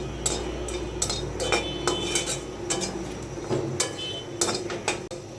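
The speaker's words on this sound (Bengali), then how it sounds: "শুটকিটা আমি কড়াইতে দিয়ে একটু টেলে নিচ্ছি বালুগুলো থাকলে পড়ে যাবে" Dried loitta fish being dry-roasted in a wok to shake off sand, with repeated sharp metallic scrapes and clanks of a utensil against the pan over a low steady hum, no talking.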